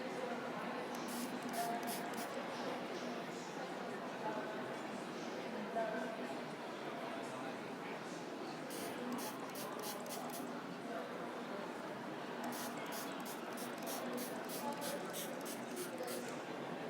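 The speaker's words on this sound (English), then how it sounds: "it's going to make you jump when I spray" Short hissing bursts of liquid sprayed onto a face to neutralise acid during a chemical peel, coming in quick clusters of several squirts each, over a quiet background.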